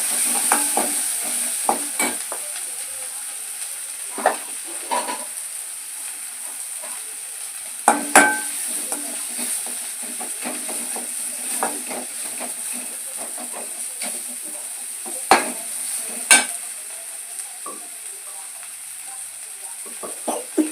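Broad beans being sautéed with sambar powder and chili powder, a steady soft sizzle under repeated scraping and stirring strokes, with a few louder clinks of the spoon against the pan.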